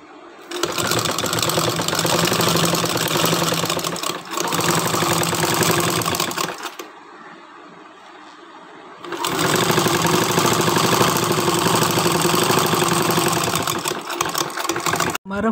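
A sewing machine stitches pink fabric piping onto a homemade cup coaster, running in loud, steady whirring bursts up close, with one short pause in the middle.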